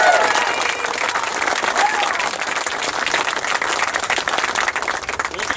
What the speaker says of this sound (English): I'd ask you to give a round of applause for Rob Bell and the campaign